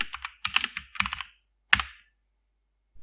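Crisp keystrokes typing a short terminal command on a Fedora Linux computer keyboard, several rapid clusters of clicks followed by one sharp, louder key press, close-miked and otherwise quiet.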